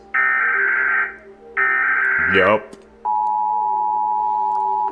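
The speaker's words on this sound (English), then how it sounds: "The one I'm used to is America's that sounds like this." Loud American emergency alert tone: two long steady pulses of a harsh two-pitch electronic buzz, then a single sustained high beep after a brief burst of sound, with a short spoken word near the end.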